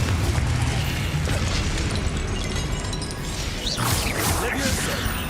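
A Confringo blasting spell goes off in Hogwarts Legacy, a loud burst of booming, crackling game combat noise with swooshing magical effects layered over dense rumble.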